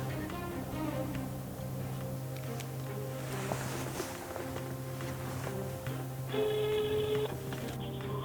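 A telephone call is placed, with steady electronic tones, dialing beeps and a brighter ringback-like tone near the end, heard continuously and fairly loud without clear talk.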